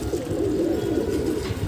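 Pigeons cooing softly near a bamboo perch outdoors, a steady low throaty murmur running through the whole short stretch with faint background noise.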